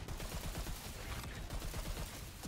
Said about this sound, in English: let's close this out with my assault rifle